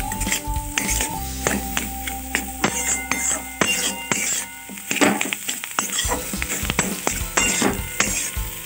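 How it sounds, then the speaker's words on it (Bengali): Spiced masala for bread chop frying and being stirred in a pan: steady loud sizzle with repeated scraping and clanking strokes of a spoon on metal, close up, a voice briefly heard underneath. "দেখো ভালো করে মশলাটা নাড়িয়ে নিচ্ছি"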